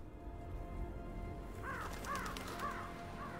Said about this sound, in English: There's crows, somehow.